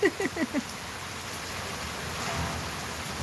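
Rain falling on a rainy evening, a steady soft hiss of drops on surfaces, with a brief burst of voices at the very start before the even patter carries on alone.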